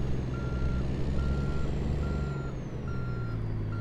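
Truck reversing alarm in American Truck Simulator: a steady series of evenly spaced electronic beeps over a low, continuous diesel engine rumble, with no talk.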